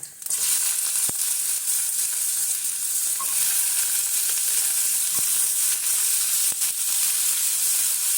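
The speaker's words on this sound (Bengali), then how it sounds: "এখন আমি এই শালগমটা এখানে ছেড়ে দিব" Turnip pieces frying in hot oil seasoned with panch phoron, a steady close sizzle that runs unbroken with a few faint stirring clicks and no voices.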